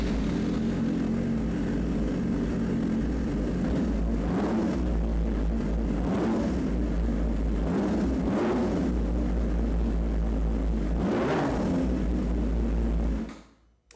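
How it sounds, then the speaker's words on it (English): Idling 2006–2016 Yamaha R6 motorcycle engine just after a valve adjustment, a steady low rumble with a few soft rising swells, running until it stops near the end. "now it's time to see how she sounds."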